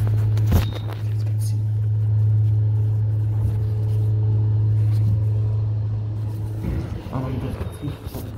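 A Mitsubishi hydraulic elevator at a Target store in Hollywood, California, runs with a steady low motor hum. A brief knock comes near the start and a rustle of movement near the end, with a voice faintly heard in places.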